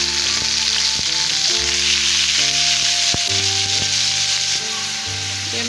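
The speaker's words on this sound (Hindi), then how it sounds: "लहसुन अदरक फ्राई हो गया।" Garlic and ginger fry in a hot pan for a chicken liver dish, a steady loud sizzle with occasional stirring scrapes, with no voices.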